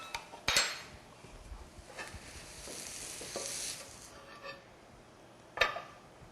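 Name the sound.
egg roll moved onto a cutting board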